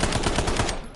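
Rapid automatic gunfire in the Call of Duty: Black Ops 7 video game, a loud, close burst of fast repeated shots that fills the whole brief moment.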